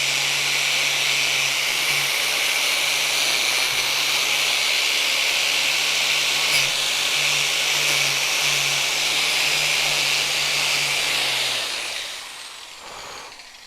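A power tool grinds in a home garage with a loud, steady hiss and a constant whining hum for about twelve seconds before it winds down and stops.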